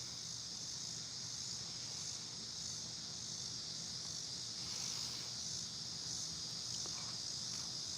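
Crickets chirping inside a quiet house, a steady, high, continuous trill that stays even and unbroken for the whole stretch, with no voices over it.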